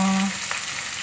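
Ground spice paste for soto betawi stir-fries in hot oil, making a short burst of bright frying sizzle that briefly follows a steady tone.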